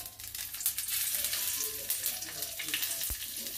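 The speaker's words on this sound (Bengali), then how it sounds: "দিয়ে মশলাটা ফোড়নটা একটু ভেজে নিচ্ছি" Whole spices, panch phoron with dried red chillies and a bay leaf, fry in hot oil left from frying hilsa fish, giving a steady close sizzle and crackle with a faint clink near the end and no talking.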